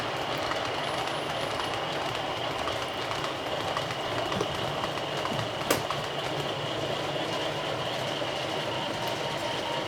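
A model railway train runs along an indoor layout, a steady mechanical whir and rumble of wheels on track throughout, with one brief sharp click partway. No speech.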